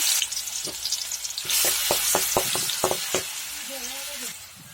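Hot oil sizzles steadily in a pan as garlic and ginger fry, with sharp crackles and clicks of utensils nearby, no talking.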